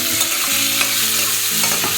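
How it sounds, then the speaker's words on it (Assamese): Bay leaves and green chillies fry in hot oil in a pan, giving a close, bright, continuous sizzle with a few soft stirring knocks and no talking. "ভাজি আছোঁ ৰঙচুৱা হোৱালৈকে ভাজি থাকিম"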